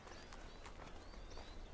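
A horse clip-clops in the video game A Way Out, soft rhythmic hoofbeats at a walking pace, fairly faint against a steady outdoor ambience.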